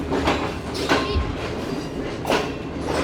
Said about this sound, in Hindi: रोडी जंक्शन को ट्रेन ने छोड़ दिया है